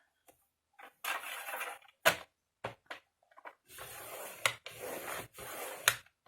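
Paper is folded and creased by hand for a scrapbooking ink stand, giving a run of close, crisp rubbing and sliding strokes broken by short taps and pauses.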